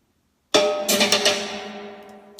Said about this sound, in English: we put some kind of percussion